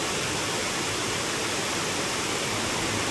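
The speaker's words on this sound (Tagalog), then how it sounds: "meron ding bumubulwak ngayon dito na isa pang falls. Yan, oh, lakas ng bagsak, oh." Daranak Falls in the rainy season, a heavy waterfall pouring down in a steady, loud, broadband roar that stays constant throughout with no voices.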